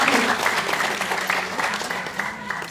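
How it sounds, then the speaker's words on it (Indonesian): Audience applauds Prof. Tati at a cancer education talk, brisk clapping from a modest crowd, close and steady throughout, with faint voices mixed in. "berikan tepuk tangannya untuk Prof. Tati."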